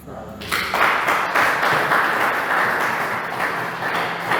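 A church congregation breaks into sustained applause and cheering, a loud broad wash of clapping that starts abruptly and carries on steadily, with voices mixed in.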